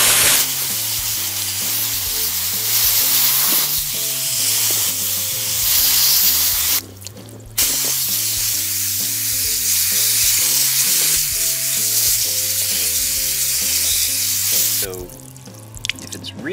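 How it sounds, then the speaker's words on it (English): A steady, loud hiss of water spraying onto an AEM Dry Flow air filter during cleaning continues throughout, briefly cutting out twice, with a faint rhythmic tonal hum underneath. "you may have to spray it again and clean it again"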